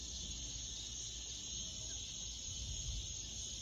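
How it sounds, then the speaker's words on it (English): Cicadas buzz in Hot Springs, North Carolina, a faint, continuous high-pitched drone under low ambient rumble, with no talk. "that's probably cicadas then"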